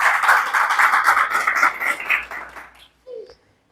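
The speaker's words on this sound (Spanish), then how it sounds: "Un aplauso al Señor." A church congregation applauds together, a dense wash of clapping that holds steady for nearly three seconds before fading out, with a brief voice rising after it.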